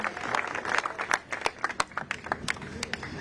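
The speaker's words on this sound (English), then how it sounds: "Give Bo a big round of applause" A crowd claps for a speaker at a political rally in Queens, with uneven bursts of handclaps rising and falling throughout and a few voices mixed in.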